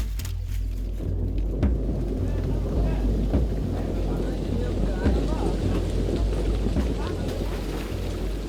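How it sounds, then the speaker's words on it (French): Steady rain with thunder falls on a huge bamboo raft on a river in Bangladesh, a dense continuous patter with low rumbling and wind buffeting the microphone, and occasional heavier thuds throughout. "la pluie s'est mise à tomber et l'immense radeau a dû stopper sa course"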